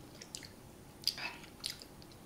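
Close, quiet mouth sounds of someone chewing food during a meal, with a few soft squishy bites and wet smacks spaced irregularly over a faint background.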